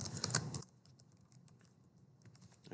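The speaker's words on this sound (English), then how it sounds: "So I will type the title here" Typing on a computer keyboard to enter a PowerPoint slide title: a quick flurry of close key clicks at first, then quieter scattered keystrokes continuing, faint and without any talk.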